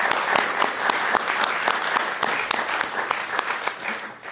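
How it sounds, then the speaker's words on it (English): Audience applause at a school committee meeting, sustained clapping from a crowd in a room, steady and fairly loud throughout before tapering slightly at the end. "A round of applause for Mr. Sacchetta."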